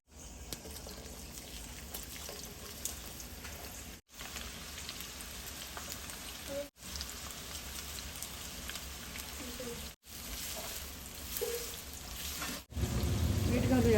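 Onion frying in oil in a large nonstick wok, a steady crackling sizzle like light rain, broken by several abrupt cuts and louder toward the end.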